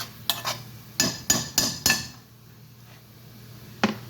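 Mung beans stirred in hot oil in a pan: a handful of sharp utensil scrapes and clinks against the pan in the first two seconds, then a quiet low hum with one final clink near the end.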